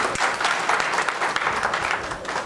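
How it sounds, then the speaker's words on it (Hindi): Steady applause from an audience at a book release function in Allahabad Museum, dense clapping that fills the whole stretch at an even, fairly loud level with no voices on top. "अब आपके तालियों का समय है।"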